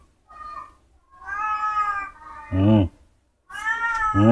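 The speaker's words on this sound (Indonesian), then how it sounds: "Ada kucing, ayo ayo." A cat meows several times, drawn-out and wavering, with short pauses between calls; fairly close and clear, no talking.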